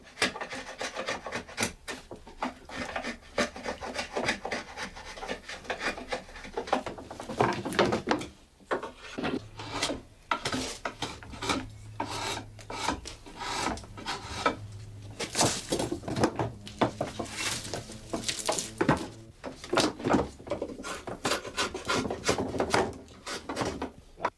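A drawknife shaves a wooden rake fork end square by hand, giving repeated rough scraping and rubbing strokes in an irregular rhythm, close and moderately loud, with occasional knocks of wood and no speech.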